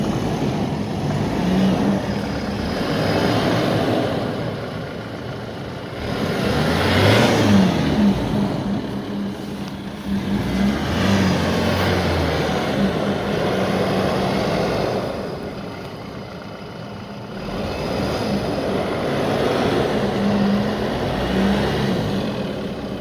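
A Force Gurkha BS6 4x4 climbs out of a dug pit, its engine revving in repeated surges that rise and ease over a steady mechanical rumble. The engine is close and fairly loud throughout.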